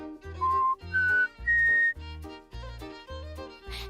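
A cartoon character whistles a series of clear tonal notes that rise step by step, heard over bouncy background music with a steady beat.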